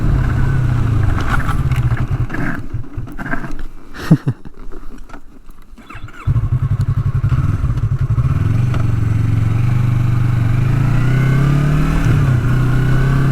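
A Yamaha MT-03 motorcycle's engine drones loudly up close, drops and sputters with clattering during a hard emergency stop on a slight downhill, then steadies back to a constant roar.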